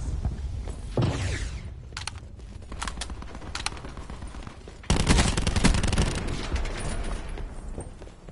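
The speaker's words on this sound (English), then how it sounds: "Just start giving cover fire right now." Bursts of automatic gunfire in Call of Duty: Black Ops 4, sharp rapid volleys with a loud sustained stretch near the end, alone without talk.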